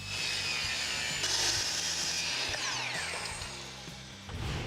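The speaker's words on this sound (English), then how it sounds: "use an extra piece of MDF that I have lying around, which I'm gonna cut on the table saw at 1-inch thicknesses" A table saw rips a piece of MDF into 1-inch-thick molding strips, making a steady, loud mechanical whine with rattling and buzzing that runs through the whole stretch.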